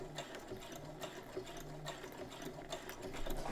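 A domestic sewing machine back stitching the collar of a dress, with a quiet, rapid mechanical chatter running steadily for a few seconds up close.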